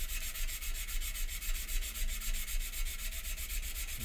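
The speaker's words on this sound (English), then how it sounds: "And again, sanding at about 45 degrees" Steady, rhythmic sanding rubs on a Spitfire scale model part, close and even, with quick repeated strokes and no talking.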